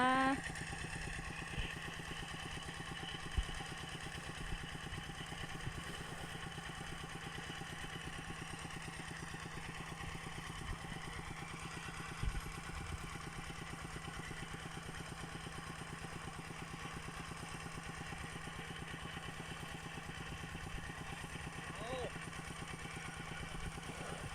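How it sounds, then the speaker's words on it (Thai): A small walking tractor engine pumps water from the Mun River, a faint, steady putt-putting idle heard at a distance, continuous and unchanging throughout. "จะมีเสียง เสียงรถไถนาเล็กนะคะ ชาวบ้านได้มาดูด น้ำจากแม่น้ำมูลนะคะ"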